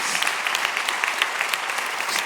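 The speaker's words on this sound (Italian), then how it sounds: "i collaboratori degli ultimi anni qui di questi studi, ai quali facciamo un applauso" Studio audience applauding steadily, a dense wash of many hands clapping together at close range, with no voices over it.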